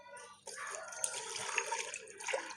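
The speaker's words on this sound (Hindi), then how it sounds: "और इसमें पानी डाल देंगे" Water pours in a steady splashing stream into a pressure cooker holding chali with milk and salt, close and fairly quiet, starting after a brief pause and continuing to the end.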